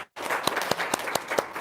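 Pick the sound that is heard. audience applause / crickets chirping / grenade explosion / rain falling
audience applause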